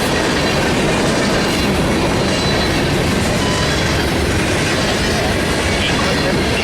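A freight train rolls past on the tracks out of Atlanta's Howell Yard, a loud, continuous close rumble of wheels and cars with clickety-clack and faint wheel squeal throughout.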